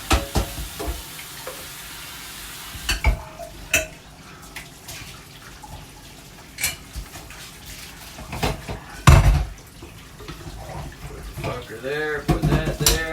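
Water runs from a tap while something is rinsed out by hand, a steady hiss of flow broken by louder splashing bursts and clunks, with occasional voice sounds mixed in.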